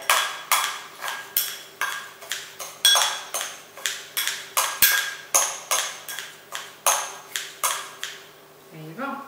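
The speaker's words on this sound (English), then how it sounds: "so chop it up a little bit" A knife chops green papaya on a board in steady, even strikes, about two per second and close by, before it stops near the end.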